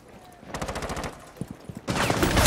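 Gunfire in Rainbow Six Siege: rapid automatic bursts crackle in a quick string, pause briefly with a couple of single shots, then a louder, denser burst erupts near the end.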